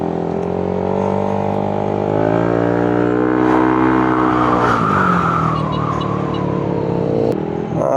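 A motorcycle engine revs up and down close by, pitch rising and falling in long sweeps, loud and alone.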